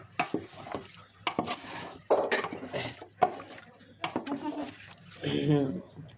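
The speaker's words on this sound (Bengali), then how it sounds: "চুলা সর্বোচ্চ দিছ ভালো করে নাড়া দাও মিশাই দাও তেলের সঙ্গে" Biryani meat stirred in oil in a pot over a high flame, a spoon scraping and clanking against the metal in irregular strokes with some sizzle, close, while people talk over it.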